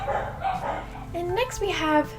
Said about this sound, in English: Sorry if you hear the dogs barking.